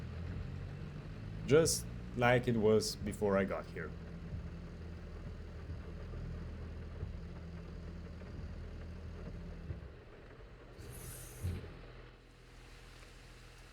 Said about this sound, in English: let's put the tractor back under the shed